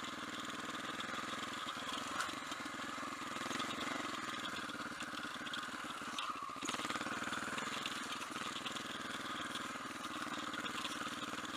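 A supermoto motorcycle engine runs at a steady, low idle, a continuous even drone that holds for several seconds with no speech over it.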